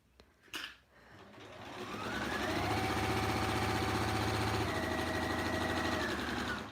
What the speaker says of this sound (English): this machine just hums